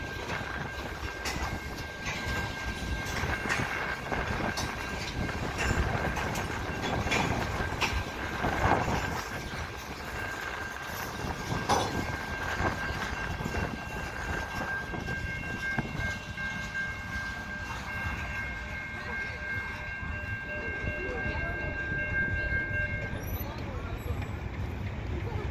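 A CN freight train rolls past at St Henri for a long stretch, ending with a flat car, with steady rumbling, clattering wheels and squealing metal, and some talk mixed in.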